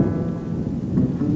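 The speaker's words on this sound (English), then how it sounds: "it began to rain." Steady, dense rain falls with a low rumble of thunder underneath, a short continuous wash of storm sound with no voices.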